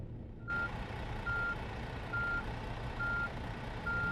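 Truck reversing in a PC truck simulator game, a steady series of evenly spaced electronic warning beeps over a low engine drone, alone without talk.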